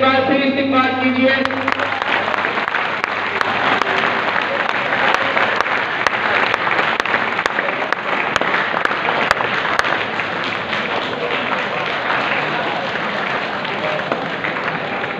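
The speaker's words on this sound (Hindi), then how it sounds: "इन मुकाबले में हिस्सा लेने वाले बच्चों का जोरदार तालियों से एक बार फिर इस्तेमाल कीजिए।" An audience at a children's Allama Iqbal poetry competition at a college breaks into loud, sustained applause that fills the hall for the full length, with a voice audible briefly at the very start.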